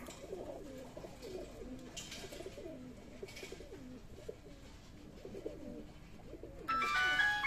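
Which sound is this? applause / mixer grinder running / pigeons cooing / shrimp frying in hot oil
pigeons cooing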